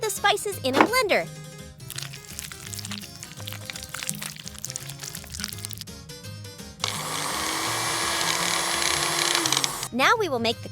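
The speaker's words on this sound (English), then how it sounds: "Now we will puree the spices in a blender." A small blender purees spices for a spicy crab sauce in a miniature seafood kitchen, giving a steady, loud whirring drone for about three seconds after a stretch of light clinking and background music.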